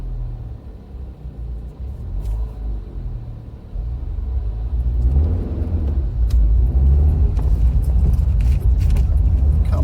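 Inside a moving car during a motorway drive, a low road rumble swells as the vehicle picks up speed, with small rattles and clicks from the cabin. Steady and close, with no talking.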